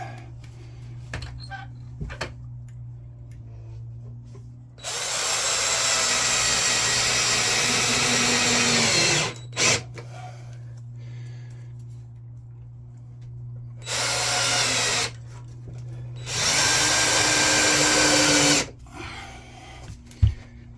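A power drill drives screws into the wooden side of an allotment shed. Three loud, sustained whirring bursts of a few seconds each are separated by quiet pauses that hold short clicks and handling noises.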